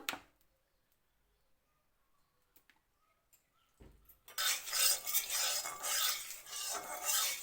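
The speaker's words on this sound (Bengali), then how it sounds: "কড়াইটা বসাই দিলাম এটা ভালো করে গরম হয়ে গেছে এবার সর্ষে তেল দিয়ে দিলাম" Mustard oil hits a hot wok on a gas stove, bursting into a loud, steady sizzle after a few quiet seconds broken by faint clinks.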